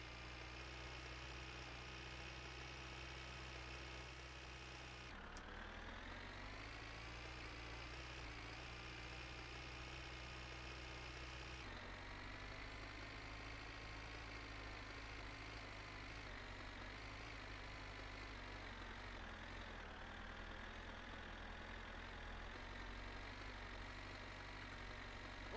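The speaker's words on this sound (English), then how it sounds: "We got the tractor, dog. Tractor, best vehicle in the game." A tractor engine idles in the video game My Winter Car, a steady low rumbling drone that holds evenly throughout, fairly quiet, with slight shifts in pitch and no talking.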